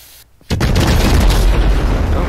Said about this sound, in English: Yes, okay, yeah, their truck was definitely demolished.